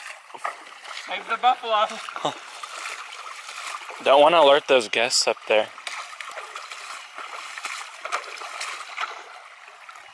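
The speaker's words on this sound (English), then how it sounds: "Gonna do dishes in the middle of the Buffalo River." River water splashing as dishes are washed in the middle of the Buffalo River on an Ozarks camping morning, irregular close splashes and sloshing with a person talking between them.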